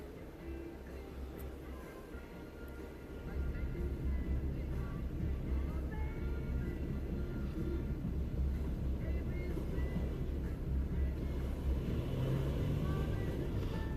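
Jeep JL or JK engine rumbling low and steady as the vehicle crawls over a boulder off-road, with a rise in engine noise partway through and voices talking over it.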